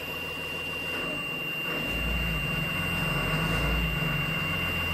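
The engine of a 2011 Blue Bird Vision bus runs at a steady low drone with a thin constant whine, heard close and unbroken throughout.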